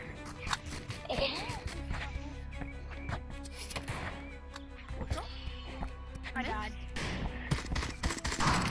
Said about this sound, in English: I'm getting shot by this dude,